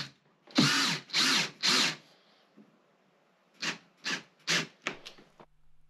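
A power drill drives the outer screws into swivel caster plates on a speaker cabinet: three long, loud whirring bursts, a pause, then five shorter, quicker bursts close by, with no talking.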